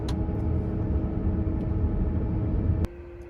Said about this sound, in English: If you listen closely, you can hear the rear end whining a little bit.